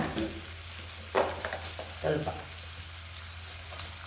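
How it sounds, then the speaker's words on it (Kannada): Chopped onions frying with a pinch of salt in a pan, a soft steady sizzle with a few louder stirring scrapes close up, while a person talks quietly in the background. "ಈರುಳ್ಳಿನ ಸ್ವಲ್ಪ ಫ್ರೈ ಮಾಡ್ಕೊಳ್ಳೋಣ ಚೆನ್ನಾಗಿ"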